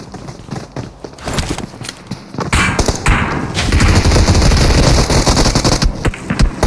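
Gunfire in the mobile battle-royale game PUBG Mobile, a loud burst of rapid shots and heavy thuds that thickens into a continuous barrage toward the end, with no clear talk.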